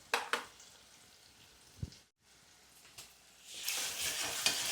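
Onions frying in a pan until reddish-brown give a soft sizzle broken by a few utensil taps and a brief quiet gap, then rise to a louder, hissing crackle near the end.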